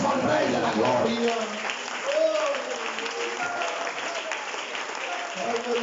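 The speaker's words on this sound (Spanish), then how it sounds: "que le dé un fuerte aplauso al Rey de la Gloria" A church congregation breaks into strong, sustained applause during a sermon, the clapping filling the room evenly, with voices calling out and rising tones mixed in beneath it.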